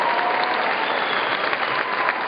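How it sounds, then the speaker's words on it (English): Graduation convocation crowd applauding family and friends, a thick, even wash of many hands clapping, loud and sustained for the whole moment with no pauses or talk. "give them a big round of applause and say thank you"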